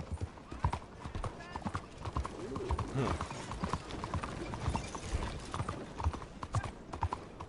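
Rhythmic clip-clop of horse hooves in Red Dead, a steady trotting beat with an occasional whinny, running under loud casual talk between players.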